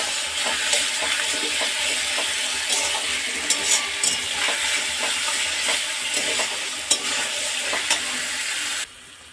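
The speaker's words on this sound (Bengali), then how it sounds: "মশলার সাথে ভাজা আলুগুলোকে ভালো করে কষিয়ে নেবো" Fried potatoes stirred into spice paste in a hot pan for a fish and ridge gourd curry, a steady dense sizzle with scraping stirs throughout, close and loud, cutting off just before the end.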